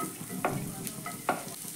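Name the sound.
onions frying in a pan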